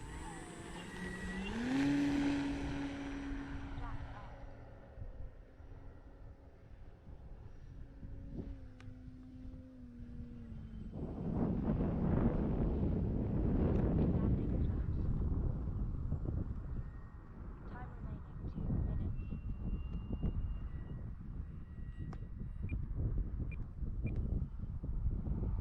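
A small airplane takes off with takeoff flaps set in gusty wind: a steady engine hum swells into a loud, broad roar, with heavy wind buffeting over the mic throughout.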